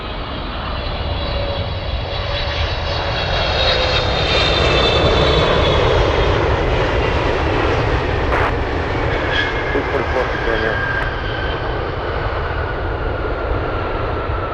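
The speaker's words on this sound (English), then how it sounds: "We have the China Airlines coming in." A China Airlines airliner comes in to land at a windy Anchorage airport, its engines a loud, steady roar that swells and holds, with some talk over it.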